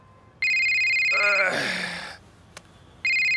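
Phone ringtone bursts loudly in a steady repeating electronic tone, cut off by a sharp gasp from a person, then resumes a moment later.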